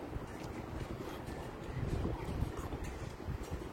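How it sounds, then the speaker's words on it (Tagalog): Strong, cold wind blowing on a sunny Canadian street, buffeting the microphone in a continuous low rumble with gusts swelling near the middle, no talking. "It's so windy guys"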